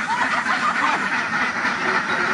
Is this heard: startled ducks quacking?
yes